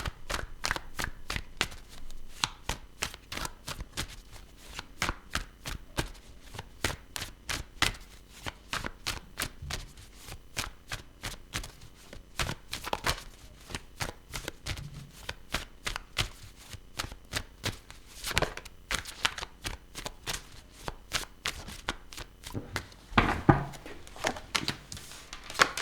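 A deck of tarot cards shuffled steadily and close by, a long run of rapid crisp riffling flicks with no talking.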